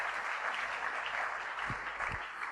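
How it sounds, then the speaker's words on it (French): A church congregation applauds and cheers together, a steady wash of clapping running the whole way through, with a couple of low thumps partway in. "Acclamons la parole du Seigneur"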